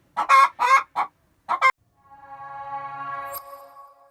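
Several free-range chickens give short, sharp clucks in quick bursts, then a steady drawn-out call rises and holds, close and fairly loud.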